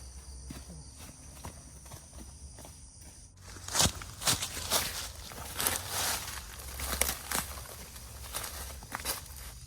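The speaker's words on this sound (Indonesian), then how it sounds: "Suara seperti langkah kaki." Footsteps crunch through a forest at night in Kalimantan, irregular steps on leaves and twigs that grow louder and closer after a few seconds of quiet insect drone, continuing unevenly.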